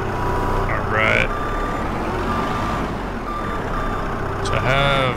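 Truck reversing alarm in the farming game Farming Simulator 22, with two short bursts of repeated electronic beeps standing out over a steady engine hum.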